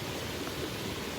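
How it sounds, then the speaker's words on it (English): A rain-swollen woodland stream rushes steadily with a broad, continuous hiss of churning water, close and unbroken throughout. "it's quite a well-established stream because of the rain."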